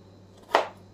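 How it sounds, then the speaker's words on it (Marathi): One crisp knife chop cuts through an ash gourd being sliced into pieces for petha, a single close thud with a short crunchy attack over a quiet low hum. "किती मोठे पीस तुम्हाला पाहिजेत त्या आकारात आपण हे कापून घ्यायचं आहे."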